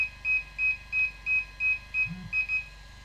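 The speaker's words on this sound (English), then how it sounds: "Now it starts to beep." DJI Smart Controller beeping while linking to a Phantom 4 Pro v2 drone, a steady series of about nine short, high electronic beeps at an even rhythm, fairly quiet, with no talk.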